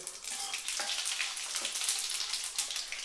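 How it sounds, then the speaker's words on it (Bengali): Panch phoron spices sizzling in hot oil after dried red chillies, a crackling, spitting fry with small popping bursts and a steady hiss at close range. "এবার দিয়ে দিচ্ছি এক চা চামচ পাঁচফোড়ন"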